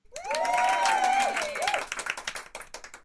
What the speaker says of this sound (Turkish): İstersek bu alkışı hızlandırabiliriz arkadaşlar buradan.